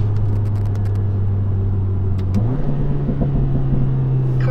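A Mercedes CLA 45 AMG S accelerating hard, its engine holding a steady loud drone and then stepping up in pitch partway through, heard close from inside the car.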